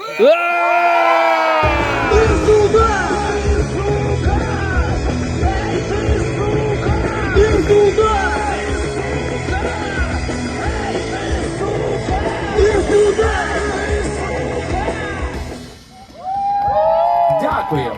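A crowd of children shouts and cheers together with hands raised, a loud sustained roar of whoops and yells that fades briefly before voices rise again.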